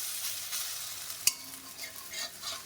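Lentil fritters (bora) frying in oil give a steady, soft sizzle with one sharp pop partway through; no one speaks.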